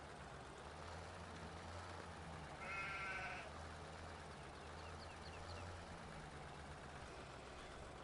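Sheep bleat in the Farming Simulator 2017 video game, one brief bleat rising clearly over a steady low engine hum, with fainter bleats following later.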